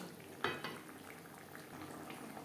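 Fish curry with fried chela fish pieces and fish heads simmering in gravy, giving a soft steady bubbling hiss with one brief clink early on and no talk.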